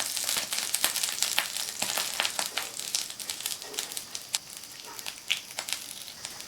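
Freshly flipped coconut kuzhi paniyaram sizzle steadily in a pan over a low-medium flame, with a dense, close crackle and scattered sharper pops throughout.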